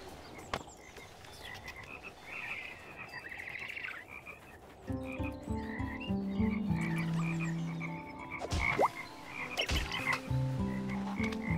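A frog croaking in the video game Toki Tori 2, repeated croaks over a soft bed of game music with chiming tones, the croaks growing fuller partway through.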